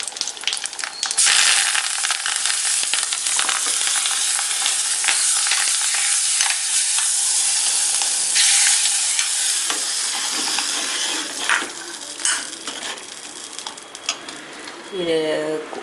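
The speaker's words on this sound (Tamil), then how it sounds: "இது நல்லா ஃப்ரை ஆனோடனே கருவேப்பிலையை ஆட் பண்ணி இந்த கூட்டில் கூட்டிடலாம்." Dried red chili and curry leaves fry in hot oil for a snake gourd kootu, giving a loud, steady sizzle that runs throughout with brief scraping stir sounds near the end.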